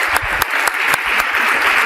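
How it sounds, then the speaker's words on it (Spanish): Audience applause at a history conference, with sharp individual claps standing out over a thinner, uneven patter for a brief moment. "pido un fuerte aplauso para Nicolás Márquez"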